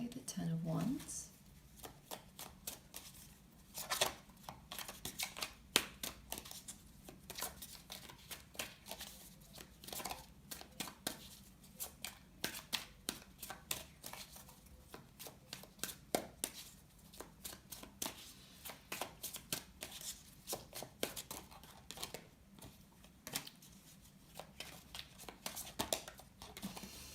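Tarot cards shuffled continuously by hand, a rapid patter of riffling and flicking slaps close to the mic, with a voice talking over the shuffling throughout.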